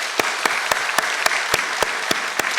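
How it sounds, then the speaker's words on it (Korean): A church congregation claps in unison on Easter Sunday, sharp synchronized claps at a steady, roughly quarter-second beat over a soft background wash, loud and close. "우리 영광의 박수 올려드리도록 하겠습니다."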